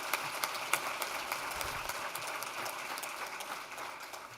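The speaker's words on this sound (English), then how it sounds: "deserves another round of applause" Applause from an audience filling a conference room, steady broadband clapping throughout with a few sharper claps near the start, moderately loud and continuous without talk.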